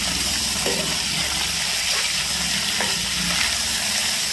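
Chopped cabbage frying in hot oil after green chillies, a loud, dense, continuous sizzle that hisses steadily throughout, close up with a few faint stirring scrapes and no voices.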